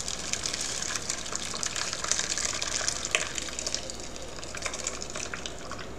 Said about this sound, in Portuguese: pra escorrer o soro